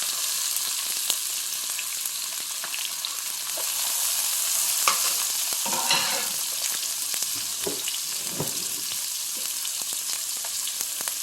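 Onions and garlic frying in oil in a pan for a shark fish curry: a continuous, fairly loud crackling sizzle with occasional stirring scrapes and bursts of spatter, close by and without voices.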